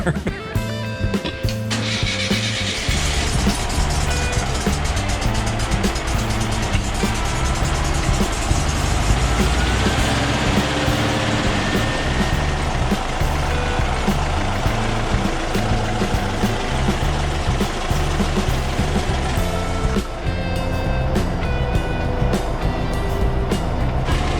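A restored VW Split Window Bus engine keeps running steadily and roughly after fuel is squirted down the carburetor throat, while people talk over it throughout.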